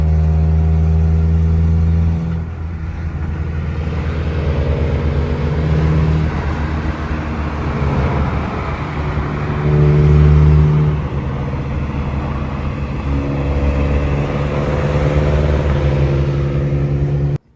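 A newly bought car's engine runs steadily while driving, a continuous mid-pitched hum with gentle rises in revs as it accelerates, heard close from inside the cabin with no talking.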